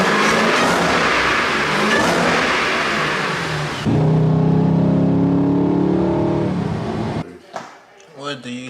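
A Whipple-supercharged Dodge Durango SRT with a stock internal engine roars and revs loudly nearby, its pitch shifting midway, then cuts to quieter idling with people talking over it.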